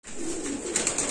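A crossbred pigeon coos softly at close range, one short throaty call with a few pulsing notes near its end, alone and faint.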